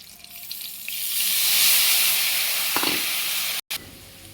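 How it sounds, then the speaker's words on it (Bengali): Nigella seeds and green chillies tempering in hot mustard oil for a Bengali bual fish curry, a steady close sizzle that swells then fades, broken by a brief cut near the end. "ফোড়নে দিচ্ছি কালো জিরা, কাঁচা লঙ্কা ফোড়ন"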